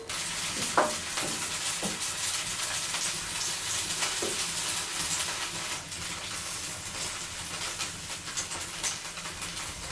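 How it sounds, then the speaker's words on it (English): Onions fry in a pan with a steady broadband sizzle and a few soft clinks of stirring, close and continuous with no talk, as mushrooms are soaked for a pancake sauce in a remote mountain home kitchen. "We fry onions and soak mushrooms."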